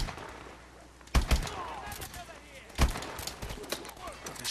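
Gunfire in the Call of Duty Advanced Warfare video game, a few sharp, loud shots with short bursts and gaps between them, heard among game sounds and a person talking.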